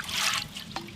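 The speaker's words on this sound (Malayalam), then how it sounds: "വീണ്ടും ശുദ്ധമായ നല്ലെണ്ണ" Pure sesame oil being poured into a pot for tuna pickle, a brief soft trickling stream of liquid close by, with no voices.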